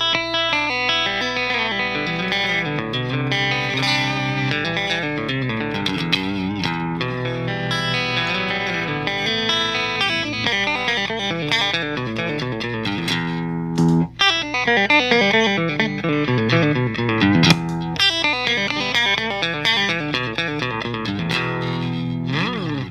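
Electric guitar played through a Walrus Audio Deep Six compressor pedal set for heavy squash, sustained chords and picked notes ringing steadily at an even level with a thick, compressed tone and no talking.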